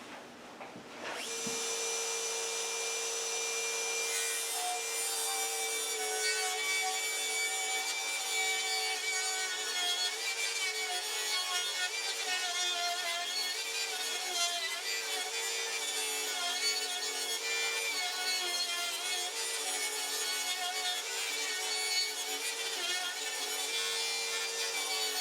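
Wood is cut with a power saw to make roof runners for a rabbit house, a continuous whining buzz that starts abruptly after a brief pause and holds steady at moderate level, near and uninterrupted, with no voices.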